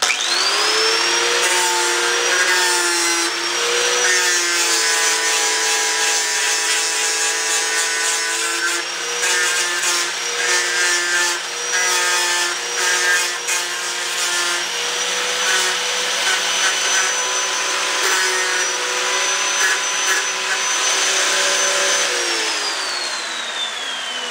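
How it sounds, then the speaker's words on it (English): Electric grinder trimming a car spindle for a disc brake bracket install, a loud continuous high whine that holds steady for over twenty seconds with slight pitch shifts, then spins down at the end. "Nice thing with the electric grinders is torque."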